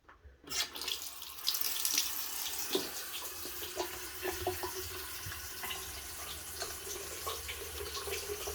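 Water runs steadily from a tap into a sink right after the cleaned trap is refitted, a continuous close splashing rush that starts abruptly and carries on alone.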